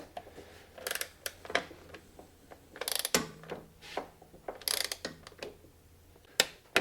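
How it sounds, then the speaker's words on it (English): Torque wrench set to 30 foot-pounds ratcheting to tighten a bolt on an SLP Mohawk ski upgrade, a series of close, sharp clicking ratchet strokes in irregular bursts with short pauses between them. "I need to take my actual torque wrench, not the precision instrument, and I have this set for 30 foot-pounds."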